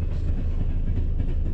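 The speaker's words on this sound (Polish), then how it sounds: "Pociąg jedzie!" Train rolling past close by, a steady loud rumble of rail wheels filling the short moment with no voices.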